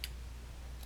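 Scissors snipping the small fabric corners off a mitered placemat, two brief crisp cuts at the start and end of a faint, quiet moment.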